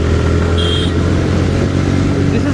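A TVS Raider 125 motorcycle ridden in power mode, its engine droning steadily beneath heavy wind and road noise throughout.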